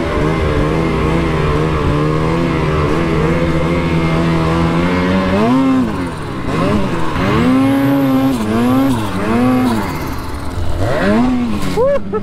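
A 600 RS snowmobile race sled carves through snow at full throttle, its loud engine whine rising and falling in pitch with each turn, heard close and continuously.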